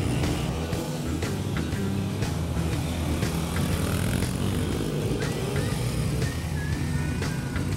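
A dirt bike engine revs steadily as the rider rolls on the throttle out of a corner at a Supercamp riding school, a loud, continuous buzzing drone with slight rises in pitch.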